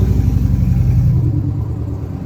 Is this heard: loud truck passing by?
yes